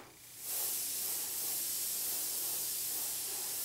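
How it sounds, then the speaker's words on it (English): Airbrush spraying paint while painting a Doctor Doom figure: a brief quiet lull, then a close, steady, even hiss of compressed air and paint that holds without break to the end. "Now it's spraying a lot more even."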